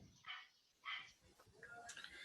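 A dog gives a few short, quiet barks and yips at a distance, spaced irregularly over about two seconds, with faint talk in the room.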